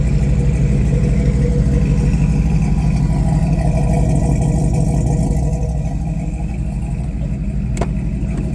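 A van engine idles with a choppy, lumpy rumble, loud and close, its uneven low pulses steady throughout with no talking over it.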